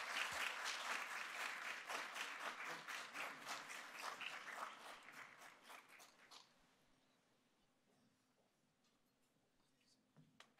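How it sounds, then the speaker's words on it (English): An audience at a military spouse workplace event claps in loud, dense applause that holds steady for about six seconds, then tapers off into scattered claps and quiet room noise. "let's give them a round of applause"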